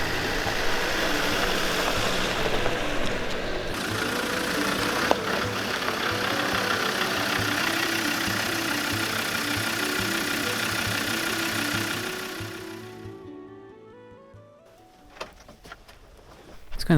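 Land Rover Defender engine running steadily with a low, even drone, then cutting out and falling quiet near the end, leaving only a few faint knocks.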